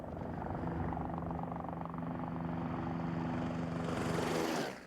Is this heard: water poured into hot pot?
no